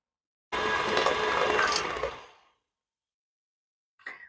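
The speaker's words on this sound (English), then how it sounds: "We have 1 pound of butter that was softened, and we're going to put it in the mixer." An electric stand mixer beating softened butter and sugar gives a close, steady motor whir with rhythmic churning for about two seconds before winding down, then a brief faint knock.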